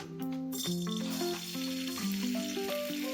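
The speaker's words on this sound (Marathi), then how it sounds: "पहिला गॅस चालू करून त्यात 1 चम्मच तूप टाकतो. आता त्यात अद्रक लसणाची पेस्ट टाकतो" Ginger garlic paste sizzling and frying in a spoonful of hot ghee in a pan, a steady close crackle with a bright hiss, under a melodic music bed with no talking.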